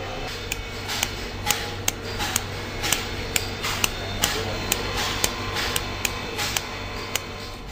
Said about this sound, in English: Where machines fail, they must resort to carving by hand.